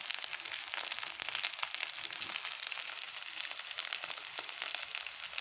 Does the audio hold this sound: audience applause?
no